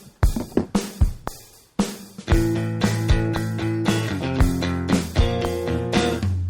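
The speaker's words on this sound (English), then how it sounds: "So I was playing the power chords before like this." An electric guitar plays power chords up close, a few choppy muted hits at first, then thick sustained chords ringing out in a steady rocking rhythm.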